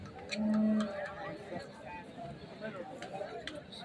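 A single loud bullock moo near the start, over a busy outdoor crowd hum with chatter and scattered animal and market noises at the Hirapur bullock market in Maharashtra.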